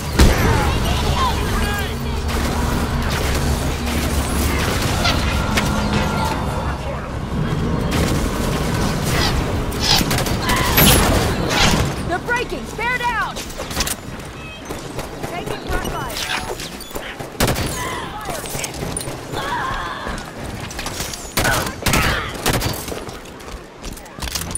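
Battle gunfire from the Halo video game, rapid bursts and booming shots layered over music and shouted voices, dense and chaotic throughout.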